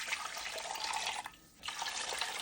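Water runs steadily from a tap into a pot being filled for kale stock, a broad rushing splash that briefly dips and thins midway before resuming at full flow, close and alone.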